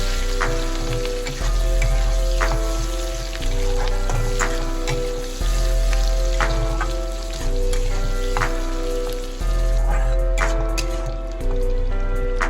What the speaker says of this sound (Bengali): পেঁয়াজের কুচিটাকে আমি এবারে বেশ গোল্ডেন ব্রাউন হওয়া পর্যন্ত ভেজে নিচ্ছি।